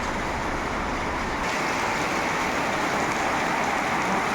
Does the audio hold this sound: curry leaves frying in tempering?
no